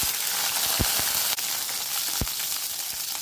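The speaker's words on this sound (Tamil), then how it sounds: "எண்ணெய் விட்டுடுங்க. ஒரு 20 பல்லு பூண்டு" Whole garlic cloves sizzle and fry in hot oil in a pan, a steady close hiss broken by a few sharp crackles and pops.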